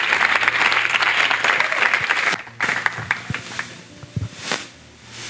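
Audience at a national couples' retreat applauding loudly and continuously, a dense wash of clapping that thins into scattered claps toward the end.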